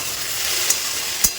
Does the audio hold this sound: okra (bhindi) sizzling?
yes